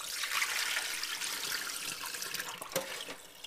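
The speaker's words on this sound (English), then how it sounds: "splash them around a bit, and pour off water." Rinse water poured off a bowl of strawberries, a continuous soft splashing pour that tapers to trickles and drips near the end, close and fairly quiet.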